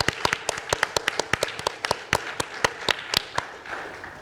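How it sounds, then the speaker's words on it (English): Applause at a think tank summit session comes as sparse, distinct claps from a small audience, sharp individual smacks in a loose rhythm of roughly eight per second, fairly close and without voices. "we give them a round of applause"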